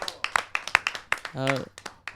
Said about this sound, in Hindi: मैं जोरदार तालियों से चाहता हूं कि स्वागत करें श्री सतपाल देशवाल जी का।